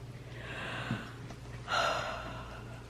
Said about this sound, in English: Did you hear me yawn just then?